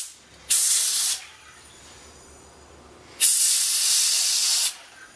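Two loud bursts of gas hissing from a released keg valve during home brewing, each lasting about a second, separated by a quieter pause.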